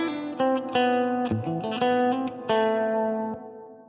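Guitar runs through a lush Line 6 Helix reverb with a long 7.5-second decay and 80-millisecond pre-delay, with heavy low and high cuts. Sustained chords change several times and the tail rings on smoothly.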